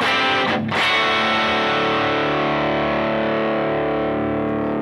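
Electric guitar through a Boss GT-1000 Britstack amp model into a Two Notes cab, a loud distorted chord struck after a brief slide, then ringing out and slowly sustaining.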